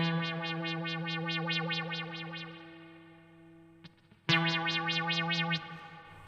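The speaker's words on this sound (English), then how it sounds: "Some distortion and some delay." Guitar played through a Boss SYB-5 bass synth pedal with distortion and delay, heard as rhythmic pulsing synth tones that fade out, then a fresh strike brings the pulsing back loud and alone.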